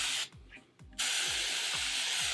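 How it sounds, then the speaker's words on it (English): Hairspray hisses from a can onto a 1960s-style wig in two close bursts: a short spray, a brief pause, then a longer sustained hiss. "you achieve this with lots and lots and lots of hairspray"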